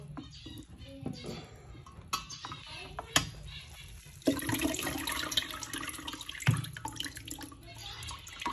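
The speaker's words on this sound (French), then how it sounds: "Donc il faut juste rincer. Un petit coup d'eau." Soybean sprouts are rinsed under running water. A steady splashing stream starts partway through, with scattered clinks and handling noises of the sprouts and container before and during the flow.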